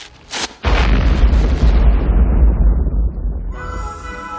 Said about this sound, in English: That was really a bomb?